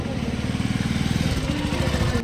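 A motorcycle engine runs near the Bhutan border with a steady, throbbing mid-pitched drone and a rapid pulsing rhythm, close and continuous throughout.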